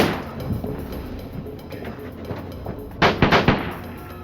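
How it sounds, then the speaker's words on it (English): Dramatized gunfire in a coffee shop, a few scattered shots over a muffled background and then a quick close burst of four loud sharp reports near the end. "Cooper shot Katie 4 more times and left with nothing"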